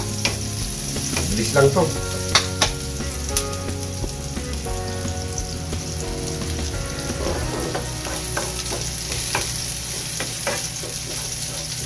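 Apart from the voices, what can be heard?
pork chop frying and sizzling in a pan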